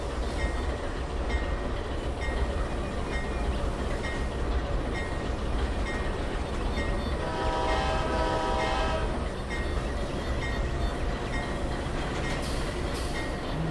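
A CSX train in Trainz 2019 rumbles steadily along the rails with clickety-clack, and its horn sounds loudly in the middle for a couple of seconds before the rolling noise carries on alone.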